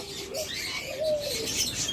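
Caged lovebirds and budgerigars, birds around 14 to 18 months old, chirp and twitter together in a continuous close chorus, with a soft coo-like note rising through it.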